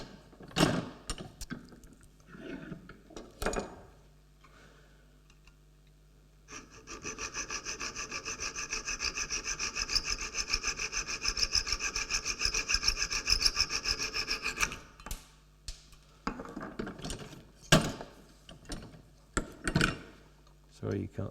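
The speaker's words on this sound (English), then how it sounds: "I've got to hacksaw these off in a minute. So I'm going to hacksaw the heads off." A hand hacksaw cuts the heads off steel screws in a woodworking shop. Quick, even back-and-forth rasping strokes run for several seconds in the middle, with someone talking before and after.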